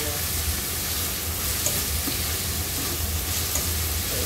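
Macaroni and broccoli being stirred in a hot frying pan, a steady close sizzle with soft scraping of the spoon running throughout, no talking.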